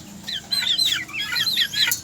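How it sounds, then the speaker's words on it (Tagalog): Hens cluck and chatter in quick, overlapping bursts, close by and fairly loud, with a faint steady hum underneath. "Ito na yung mga inahin."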